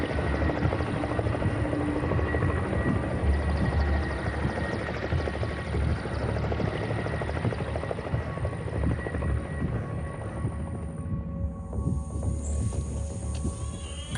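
A continuous, heavy helicopter engine and rotor drone runs steadily throughout, loud and close, with no voices.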